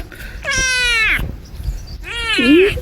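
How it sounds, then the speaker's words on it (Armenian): Two loud, close Minecraft cat meows separated by a short pause, each long and wavering, the second ending in a whiny downward twist. "Կատվի ձենը։"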